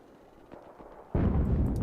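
Artillery fire in the game Enlisted opens with faint distant thumps, then a sudden loud, sustained blast of booming impact noise that rolls on to the end.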